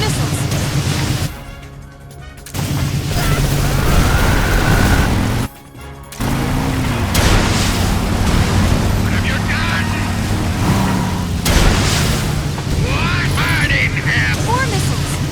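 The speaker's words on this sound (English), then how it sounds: "Here come the missiles!" Missiles explode in the Metal Gear Solid Delta: Snake Eater video game amid dense, loud combat noise with rumbling booms and mechanical roar, broken by two brief dropouts.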